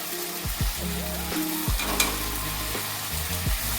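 Ground turmeric, cumin, coriander and chilli powder sizzle in hot oil in a home kitchen, a steady crackling fry broken by a few clinks and scrapes of stirring, with no voices.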